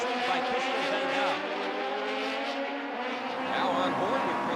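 Atlantic series race cars roar steadily at Trois-Rivieres, heard on board with engine drone and shifting pitch holding loud throughout, with faint tire noise in the mix.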